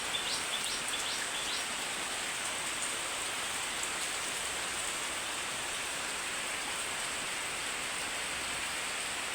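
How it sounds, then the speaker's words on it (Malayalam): Heavy rain pours down in a dense, continuous hiss, a steady wash of drops at even loudness throughout with no voices. "അപ്പോൾ നല്ല മഴയായിരുന്നു."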